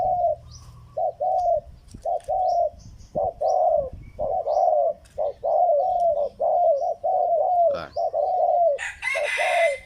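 A trained three-year-old decoy bird used by hunters gives repeated, loud, close cooing calls in a steady series of short phrases, with a brief burst of higher, harsher noise at the very end.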